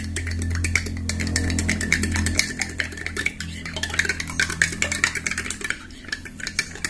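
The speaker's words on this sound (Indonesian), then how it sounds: "Terus kita aduk lagi teman-teman." A spoon stirs a drink mixture of white sachet milk in a glass, giving a steady rapid clinking and scraping that runs continuously throughout, loud and close.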